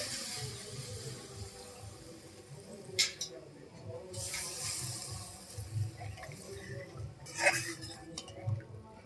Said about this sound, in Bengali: এরপর দিয়ে দেবো গ্রেভির জন্য জল